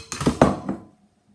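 Dry macaroni pasta, about 300 grams, clatters into a container on a kitchen scale in a short rattling pour of a few hard clinks that stops abruptly into silence.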